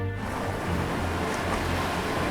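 Rough Pacific surf on the Baja coast, a loud continuous wash of crashing waves and churning water with wind buffeting the microphone, no voices.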